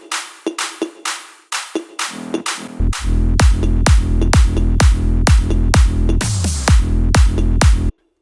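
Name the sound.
layered big room drums: claps, toms, snares, fills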